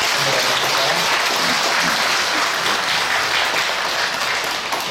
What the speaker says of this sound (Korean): 들어가실 때에 박수해 주시고 선물을 전달하겠습니다